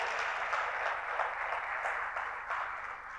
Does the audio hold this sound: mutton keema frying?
no